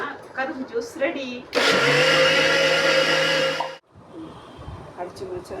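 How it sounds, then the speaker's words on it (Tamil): A kitchen mixer grinds sugarcane pieces with a little sugar into juice, a loud, steady whirring burst of about two seconds with people talking before and after it. "சவரை மட்டும் மிக்ஸியில் போட்டு எடுத்திங்கன்னா கரும்பு ஜூஸ் ரெடி"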